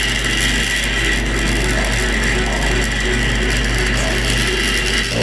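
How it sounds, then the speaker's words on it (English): A servo on an Arduino robot turns the front wheel, giving a steady, close mechanical whir with gear-like ratcheting texture that runs continuously without pause. "the servo is rotating the front wheel"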